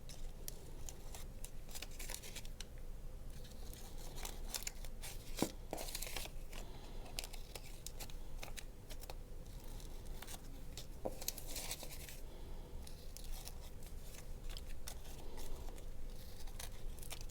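Scissors trimming newspaper cut into leaf shapes make a soft, continuous papery rustle with faint snips and crinkles over a steady background hiss, close and quiet throughout.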